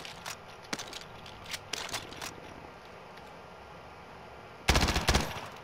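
Gunfire in Call of Duty: Modern Warfare: scattered faint, distant shots, then a louder, closer rapid burst of automatic fire near the end.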